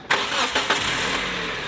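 A car with a suspect transmission is started up: a brief cranking burst gives way to a steady, fairly loud engine rumble that carries on without pause, with no talking.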